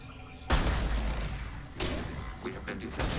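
Sharp gunshots and impacts ring out in Mass Effect 2 as the hub is shot, a few loud bursts with short gaps between them, close and harsh, with a faint voice underneath.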